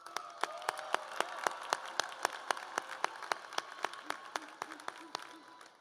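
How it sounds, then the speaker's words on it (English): A high school graduation audience claps for the school band, with sharp, distinct claps in a fairly regular rhythm over a faint room background, some murmured voices underneath. "I would like to a round of applause for our band over there for their prelude today"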